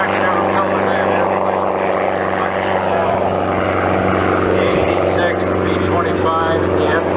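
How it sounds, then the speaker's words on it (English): A propeller airplane, slowed down with its gear lowered, flies at an airshow, its engine drone steady and loud throughout while an announcer talks over it. "Here it comes, Dave's got her all slowed down now, geared down"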